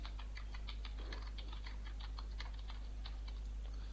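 Computer keyboard keys clicked while a hotkey is pressed, giving a run of quick, light, crisp taps in an even rhythm over a steady low hum.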